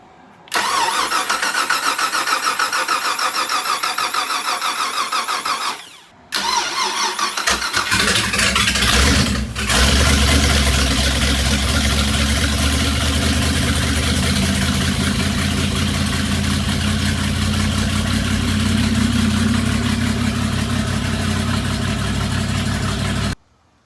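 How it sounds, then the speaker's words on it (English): A Gen 5 engine meant for a Sea Ray 370 Sundancer boat, with a freshly rebuilt carburetor, cranks in short bursts, catches with a roar and settles into a loud, steady rumbling idle close by. "we're going to go ahead and roll this Gen 5 over that we plan on using in the boat"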